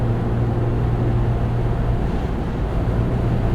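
Wind noise fills the cabin of a 2.7L V6 Ford Bronco with an early-build factory hardtop while driving, a steady loud broadband rush with a low engine hum underneath, continuous throughout.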